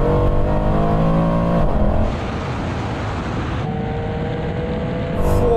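A 750 hp Mercedes-AMG C63 Black Series and a 700 hp BMW M3 accelerating hard in third gear from 50 mph in a drag race: a steady, loud engine drone climbing in pitch, with a brief gear-change dip partway.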